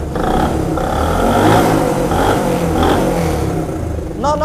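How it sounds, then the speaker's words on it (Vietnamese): A 1972 Honda SS50 motorcycle idling with its exhaust close by, a steady low burbling putter with slight rhythmic swells over a few seconds, no talking. "Bà con nghe tiếng bô nè."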